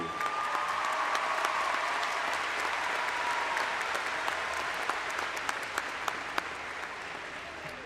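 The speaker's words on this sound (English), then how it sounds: "Students, let's give them a round of applause if you would." Steady applause from a large crowd at a high school commencement ceremony, honoring parents, continuous and moderately loud across the whole stretch with a few sharper individual claps near the end.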